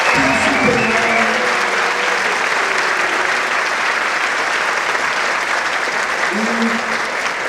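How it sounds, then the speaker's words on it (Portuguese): A crowd at a school mock-trial event gives loud, sustained applause that fills the room, while a voice talks over it at the start. "eu peço mais uma vez, uma salva de palmas para todos que se maravilham, que se prepararam"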